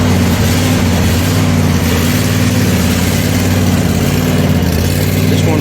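A riding lawn mower engine idles loud and close right after starting up in a shop, a steady, throbbing low drone with no break.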